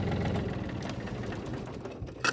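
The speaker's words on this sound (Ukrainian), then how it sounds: "Так, глушимо трактор." A Yanmar F22 tractor's engine chugs with a rapid mechanical clatter that eases off as it is shut down, ending with a brief clunk.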